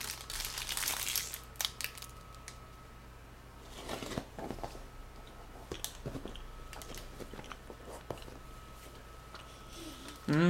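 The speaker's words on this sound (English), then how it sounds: "That crinkling sound is a Nutrigrain wrapper." Plastic wrapper of a strawberry Nutrigrain bar crinkling in bursts close by, with crisp rustles near the start and scattered softer crackles later, over a steady low hum and some quiet talk.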